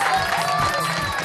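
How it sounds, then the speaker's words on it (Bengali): Audience applause at a Bengali children's comedy show, a dense, steady patter of clapping from a crowd that lasts just over a second with no pauses. "কিমিয়া ম্যাডাম, তার জন্য একটা হাততালি।"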